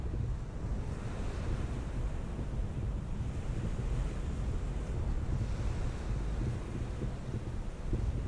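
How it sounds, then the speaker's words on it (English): Wind at the sea during a fishing session buffets the microphone in a steady, loud roar, with crashing surf mixed in underneath. It continues without a break, and no one speaks. "Just a bit of that wind."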